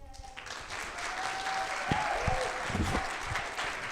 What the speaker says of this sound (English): ask you if you would mind giving them a round of applause as we go through